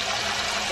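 Water poured over beef ribs soaking in a pot for Korean braised short ribs, a steady, close rushing pour that runs without a break and with no talking.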